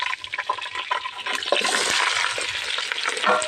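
Onions and green chilies sizzle as they are stirred in a hot pan for chicken bhunjia, the frying hiss swelling and staying loud after a quieter, scrapy start.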